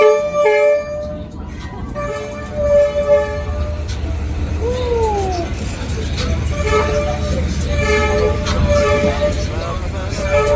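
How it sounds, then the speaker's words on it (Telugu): A train rolls through a narrow, crowded street in Hanoi, Vietnam, sounding loud, repeated horn toots over a rumbling engine and wheel noise close by, while people talk nearby. "ఇదిగో ట్రైన్ వస్తుంది, పక్క ఉండమని చెప్తున్నారు."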